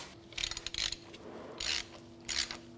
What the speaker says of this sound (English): send the bolt through, put the nut on the other end. Again, they're 17 on both sides. We'll tighten those down now.